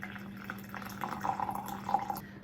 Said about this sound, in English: heat your cup up with some hot water